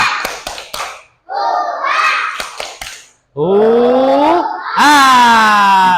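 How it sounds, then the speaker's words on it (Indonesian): Schoolchildren do a rhythmic spirit clap in class, with quick clusters of claps between loud, sustained group chanting. "ayo kita ice breaking dulu. Tepuk semangat"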